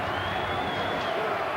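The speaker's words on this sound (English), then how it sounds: "The crowd are on their feet around this Mountbatten Centre in the North End" Boxing crowd on its feet at the Mountbatten Centre in Portsmouth, a steady roar of cheering and shouting filling the hall, continuous and fairly loud throughout.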